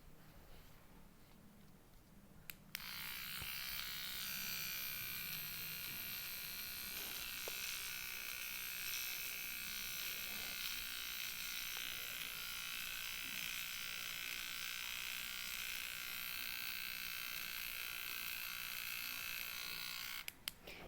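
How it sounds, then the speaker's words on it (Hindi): Electric eyebrow trimmer buzzing steadily as it trims fine hair on a finger, a close, continuous high whine switching on after a brief pause and running alone for the rest of the stretch. "अब मैं ये आपको ट्रिम करके दिखाती हूँ इससे, ताकि आपको पता चले कि ये कितना टाइम लेता है।"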